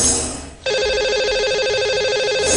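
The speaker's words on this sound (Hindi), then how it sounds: "तो चलिए हम कॉल लगाते हैं अपने लकी कॉलर से" An outgoing telephone call to a lucky caller on a live TV show rings with a loud, steady electronic tone that starts abruptly after a brief fade and carries on to the end.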